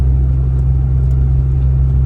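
A Suzuki Alto Works engine runs steadily in gear after the shift, a loud, close, even low rumble with no surging.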